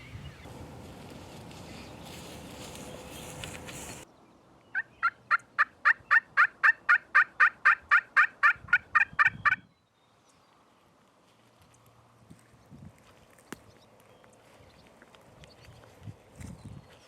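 Wild turkey gobblers gobble in a spring field: a loud, rapid burst of gobbling rattles for several seconds after a rushing noisy stretch, then quiet outdoor ambience with faint distant sounds.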